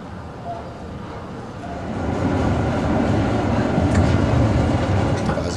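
A DÜWAG-built tram in Kassel eases into a stop bay, its low rolling rumble swelling and staying steady and close, with faint rail clatter and a few light squeals above it.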